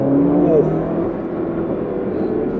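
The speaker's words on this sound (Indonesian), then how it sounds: "Dan di knalpot itu juga ada letupan-letupannya itu tuh, yang enak juga untuk didengar." A car's engine revs hard in its hottest sport mode, a loud steady roar lasting throughout with exhaust crackle implied and a rising whine near the start, up close and alone without talk.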